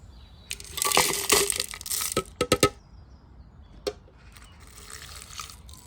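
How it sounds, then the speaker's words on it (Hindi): Whole turmeric and four cloves are crushed by hand in the traditional way into spice powder for Goan ambot tik, heard as loud gritty grinding strokes followed by several sharp pounding knocks, then softer scraping. "मैं पूरा हल्दी लेकर इसका पाउडर बनाना चाहूँगा"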